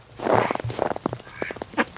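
Ducks quacking inside a barn on a duck breeding farm, a busy run of short, overlapping quacks from several birds, close and moderately loud with no talking.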